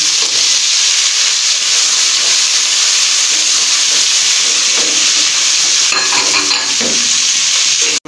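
Garlic ginger paste frying with onions for chicken yakhni pulao gives a loud, steady sizzle that holds for the whole stretch, joined by brief stirring scrapes near the end.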